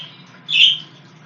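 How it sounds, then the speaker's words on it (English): Pet birds kept indoors give a single short, bright squawking chirp over a quiet background, close and distinct for about a quarter second. "As you can hear, the birds are chirping and active."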